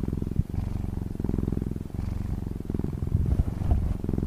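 A steady, soft purr rumbles continuously and close up, a low rhythmic vibration with no other sounds around it.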